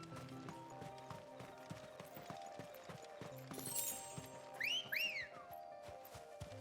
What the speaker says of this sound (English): That's an interesting whistle.